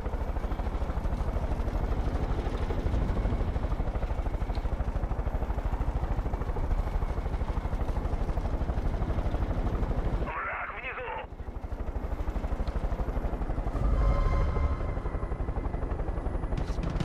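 Helicopter in the video game Far Cry 5, a continuous rotor and engine roar filling the scene, briefly cut by a short dip and then returning with some clattering gunfire-like bursts; someone talks over it.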